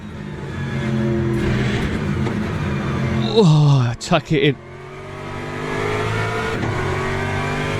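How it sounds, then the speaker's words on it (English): A Ford Mustang GT3 race car engine in the video game Le Mans Ultimate drones and revs, dropping sharply through a couple of gear shifts midway, with a voice speaking briefly over it. "make sure that you get behind the wheel of the Ford Mustang, because that engine sound is epic"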